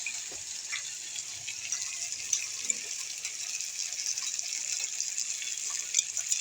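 Water is poured to rinse leftover ground spice paste into a cooking pan. A fairly faint, steady trickling and splashing runs throughout with a few small clinks, and no one speaks.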